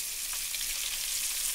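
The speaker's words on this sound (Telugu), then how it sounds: "రెండు వేపులు తిరిగేసుకొని ఫ్రై చేసుకుంటూ ఉండాలి." Pieces of fish fry in hot oil in a pan, giving off a steady, dense hiss and crackle that stays even throughout, with faint pops now and then.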